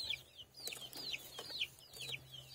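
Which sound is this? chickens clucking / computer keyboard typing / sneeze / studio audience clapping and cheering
chickens clucking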